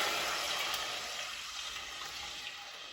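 Vegetable stock pours into a pan on a stovetop for succotash, a steady close hiss of liquid that starts bright and settles into a softer wash, with no talking.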